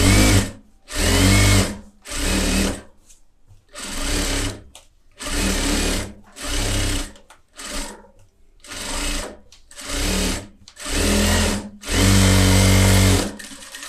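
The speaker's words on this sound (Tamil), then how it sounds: "இப்போ பார்த்திங்கன்னா இதில் ஓரத்தில் நான் தையல் போடுறேன்" A tailor's sewing machine stitches along a fabric edge in about a dozen short bursts of fast mechanical whirring, each lasting under a second, with the final run longer and louder, and brief gaps of quiet between.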